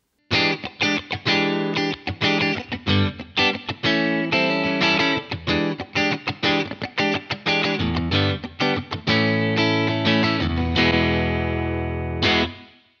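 Electric guitar played through a Universal Audio UAFX Heavenly Plate reverb pedal set with minimal reverb, mix turned down and EQ turned left: a run of loud, choppy, distorted strummed chords, ending on a ringing chord with a short tail.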